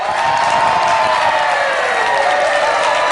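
A crowd at a Thai singing-competition show screams and cheers loudly, a dense, steady roar with high shrieks that holds at full volume throughout, with no clear speech on top.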